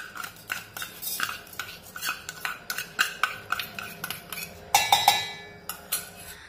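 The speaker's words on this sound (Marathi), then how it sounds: "आता एक मिक्सरचं भांडे घेऊया आणि त्यामध्ये हे तांदूळ टाकूया" Cooled cooked rice being tipped and spooned into a metal mixer grinder jar for kheer, a series of sharp metallic clinks and scrapes at an irregular pace, close and clear with no talking.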